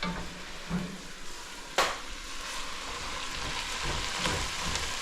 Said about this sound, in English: We're just gonna keep sauteing this up.